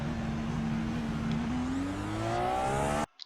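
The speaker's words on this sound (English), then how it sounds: "let's see it coming out of the stall. Easy full throttle, no spinning." A racing game car pulls hard out of a slow corner at full throttle in first gear, the engine note climbing steadily and loudly before cutting off abruptly.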